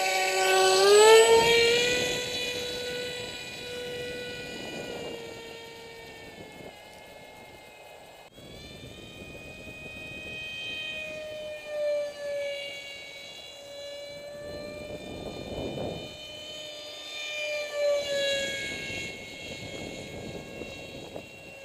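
An RC F18 model jet with a 7x4 propeller flies with a loud, steady whining drone that rises and falls in pitch as it passes, staying continuous throughout.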